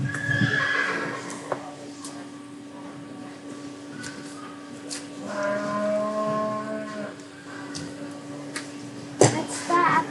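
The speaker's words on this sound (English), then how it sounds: "He meets you at the gate with sweet little knickers." A horse at a sale barn gives soft, low nickers and a brief whinny, faint against a steady background hum, with people talking nearby.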